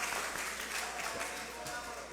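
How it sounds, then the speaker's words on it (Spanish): Audience applause at a regional political gathering in Lima, a steady dense wash of clapping at moderate level throughout, with some faint voices mixed in. "un aplauso a nuestro..."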